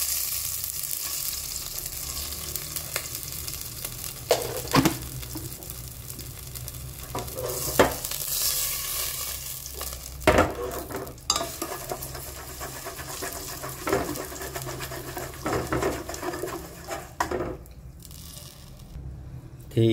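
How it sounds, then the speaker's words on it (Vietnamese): Cooking oil and sugar heat in a pan to make caramel for Vietnamese braised pork with eggs, giving a steady close sizzle broken by scraping stirs and occasional sharp clanks of the utensil against the pan. "Đầu tiên mình sẽ cho dầu ăn vô để mình thắng nước màu nha"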